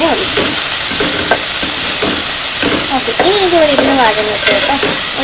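Onions sautéing in a pan for a Kerala-style squid roast, a steady broad sizzle with scraping stirring strokes, close and loud, while a voice speaks briefly over it.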